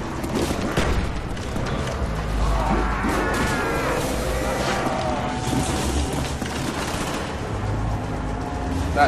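Automatic weapon fire aimed at zombies in Black Ops Zombies on the Verruckt map, continuous rapid shots and impacts layered over constant loud game noise, with a voice talking over parts of it.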